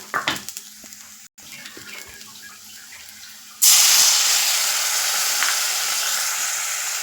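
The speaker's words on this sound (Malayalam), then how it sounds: "ഇനി ഇതിൽ ഒരു 1/2 ഗ്ലാസ് ചൂടുവെള്ളം ഒന്ന് ഒഴിച്ചു കൊടുക്കാം" Half a glass of hot water is poured into a pan of elephant foot yam curry. After soft stirring noises, a sudden loud sizzle bursts out and then holds as a steady, bright hiss.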